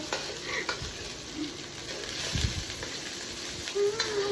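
Onion and garlic fry in oil for pork adobo, a steady close crackling sizzle with occasional louder spits and pops and a few stirring scrapes, no voices over it.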